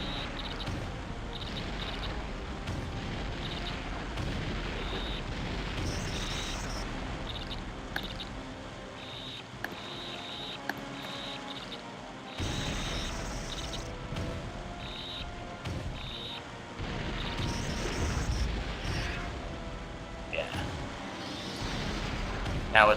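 Grenade explosions and combat noise in the video game Turok 2: Seeds of Evil, a dense, continuous wash of blasts and effects with several sharper bursts over about twenty seconds.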